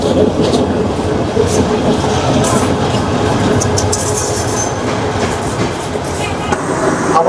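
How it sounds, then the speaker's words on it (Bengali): Meter-gauge Joyantika Express, train 717, enters Dhaka Airport railway station in Bangladesh with a loud, continuous rumble and wheel clatter, faint squeals riding over the steady roar. "ঢাকা বিমানবন্দর রেলওয়ে স্টেশনে জয়ন্তিকা এক্সপ্রেস ট্রেন নম্বর সাতশো সতেরো প্রবেশ করতেছে"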